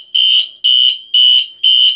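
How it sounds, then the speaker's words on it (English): A Halon suppression fire alarm system sounds during a test, giving four loud, steady electronic tones in a regular on-off pulse, with nothing else heard between them. "There's the alarm."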